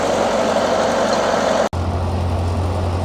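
A road grader's diesel engine idles steadily and close by on a storm-damaged rural road, a continuous low rumble that briefly cuts out for an instant midway before resuming.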